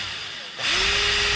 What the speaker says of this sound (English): Just drill our pilot hole first.